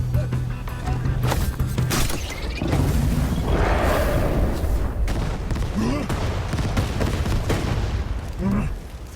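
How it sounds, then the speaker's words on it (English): Firecrackers going off all around, a dense, loud stream of crackling pops and bangs that barely lets up, with voices heard now and then over it. "Firecrackers everywhere."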